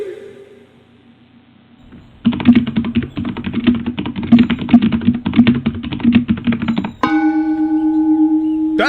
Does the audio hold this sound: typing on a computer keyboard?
yes